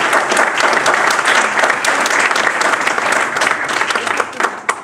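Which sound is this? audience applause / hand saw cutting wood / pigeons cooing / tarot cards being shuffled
audience applause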